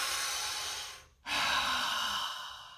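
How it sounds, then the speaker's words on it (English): A deep inhale and exhale from people in a class, a broad airy breathing sound filling most of the short stretch with a brief quiet gap before the breath out, no talking. "Let's go ahead and take a deep breath while we're here."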